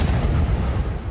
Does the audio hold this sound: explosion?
yes